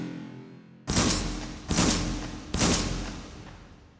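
Three loud shotgun blasts from a pump or semi-auto shotgun on a range in the VR game H3VR, each a sharp boom with a long decaying tail, spaced under a second apart with no talking.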